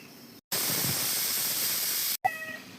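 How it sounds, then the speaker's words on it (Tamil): A pressure cooker cooking chicken curry lets out a loud, steady hiss of steam for about a second and a half, then cuts off abruptly, followed by a brief higher tonal whistle. "சிக்கன் குழம்புக்கு விசில் போயிடுச்சு"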